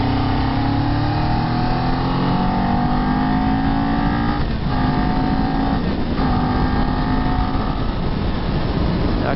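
A new Kawasaki Z400 motorcycle engine revs while being ridden, its pitch climbing steadily then dropping and rising again through gear changes, loud and continuous with wind noise over it.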